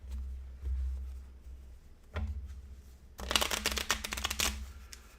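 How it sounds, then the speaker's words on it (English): Playing cards are riffled into a deck during an Apiary board game expansion setup, heard as a quiet rustle and then a close, crisp burst of fluttering shuffles. "give them a nice shuffle into the deck"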